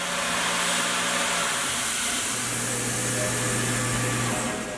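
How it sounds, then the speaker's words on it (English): A CNC mill machining off a stud on a metal cubic trisection puzzle piece held in a fixture: a loud, continuous whirring grind with steady spindle tones, close by and without speech. "quickly machine off that stud."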